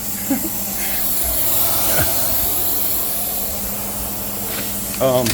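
A Butler carpet cleaning wand sucks up pre-sprayed carpet with a steady, loud rushing hiss that runs the whole time, while a voice speaks over it near the end.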